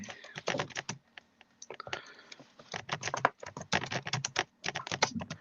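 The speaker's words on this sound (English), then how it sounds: "your typing's doing my head" Someone types quickly on a computer keyboard close by, with dense irregular clicking in bursts and short pauses between them, and no other sound competing.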